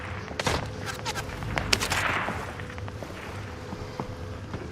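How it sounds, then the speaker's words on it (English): Dull booms and scattered gunfire-like bursts from an in-game airstrike, in a first-person shooter with snipers and a UAV overhead, roll at moderate level over a busy battlefield bed, with irregular sharp transients throughout. "Somebody's calling an airstrike"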